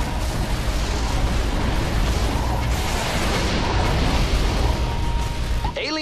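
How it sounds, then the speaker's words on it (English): Explosions from the video game Defense Grid 2 roar as a dense, continuous wall of loud booming and rumbling bursts, with a brief electronic warble near the end. "that's all you're gonna hear is explosions."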